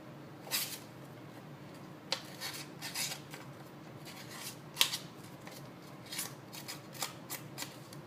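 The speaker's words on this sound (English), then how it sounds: "I'm going to take my scissors and just distress the edges a little bit." Scissors scrape and snip along paper card edges to distress them in short, irregular strokes, close up and fairly quiet, with no talking.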